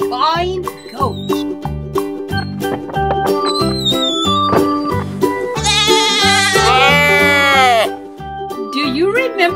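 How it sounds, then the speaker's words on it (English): A female goat on a farm behind a barn door bawls loudly in long, wavering bleats, close and strong, over a rhythmic musical backing with a child-like voice in places. "take you behind the barn door to hear this loud, bawling goat."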